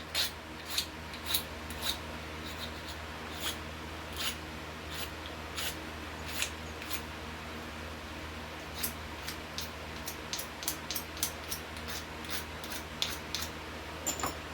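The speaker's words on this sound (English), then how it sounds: "I'm going to look for points on this rock flake that I can use and scrape out what's left of the marrow" Repeated short scrapes of a sharp rock flake against a whitetail deer bone, digging out marrow, come close and dry, an irregular series of crisp strokes over a low steady background hum.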